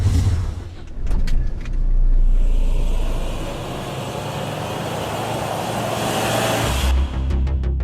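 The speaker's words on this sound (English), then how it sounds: "why don't you stand in the center of the donut and I'll go around you" Mahindra Scorpio off road in Ladakh, its engine revving steadily as it circles in donuts, with a continuous loud rumble and broadband tyre and gravel noise that rises, holds and fades near the end.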